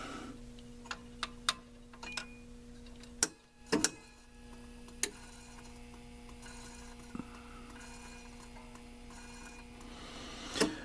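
A Rock-Ola 445 jukebox mechanism runs with a steady motor hum, scattered light ticks and a couple of louder mechanical clunks partway through.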